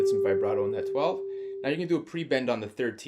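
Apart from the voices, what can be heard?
No distinct noise like a dog, phone or traffic.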